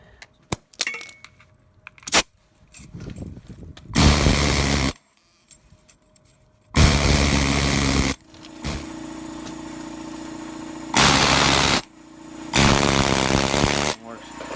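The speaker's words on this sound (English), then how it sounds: "the little needles just vibrate violently as they work their way in and out" A pneumatic needle scaler rattles harshly against an engine block, hammering off paint in several loud bursts of a second or two each, separated by pauses with quieter clinks and handling noise.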